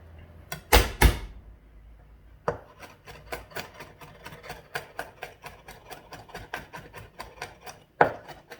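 A knife chops garlic on a board in a rapid, steady run of crisp taps, with a few heavier knocks at the start and end; close and clear, no voices.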